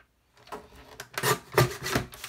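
Scraping, rasping strokes as a small strip of white paper is trimmed off the end of a handmade card, a few short close bursts after a moment of silence.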